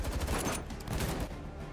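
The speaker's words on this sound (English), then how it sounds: "A wave of gunfire blocks off Cocoon's path." Sustained gunfire in a cutscene from the game Girls' Frontline 2: a loud, dense volley of rapid shots with no pauses, fading slightly toward the end, and no voices.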